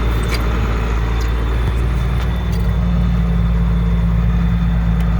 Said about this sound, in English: Hop in the pick 'em up truck and head home.